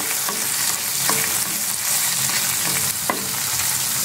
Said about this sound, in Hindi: अदरक लहसुन का पेस्ट ऐड कर दिया इसमें। तो थोड़ा सा सौते करेंगे हम एक मिनट तक।